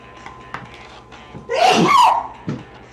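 A single sharp sneeze bursts out in a home kitchen during jambalaya cooking, loud and close, with faint handling knocks before and after.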